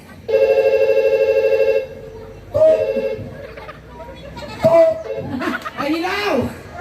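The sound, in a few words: telephone ringing on a call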